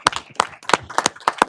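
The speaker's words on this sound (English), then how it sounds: "Did you want to clap?" Several people clap sparsely during a county board of commissioners meeting, about six distinct hand-clap bursts in an uneven rhythm, close and fairly loud with quiet gaps between them.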